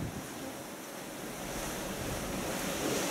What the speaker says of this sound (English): sound of the sea. The sound of the sea.